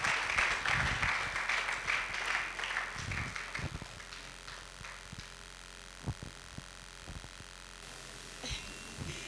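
Audience applause welcoming a speaker at a youth opportunity forum in Goma, with faint scattered clapping under a hum, strongest at the start and thinning out to sporadic claps.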